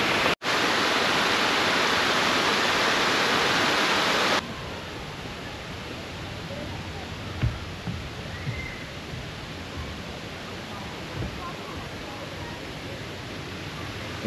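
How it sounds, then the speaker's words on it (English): Water rushes and bubbles up in a stream at an outback nature park, a steady broadband wash heard close. It is loud at first and then settles to a softer, continuous flow. "Look at the water bubbling up from over there."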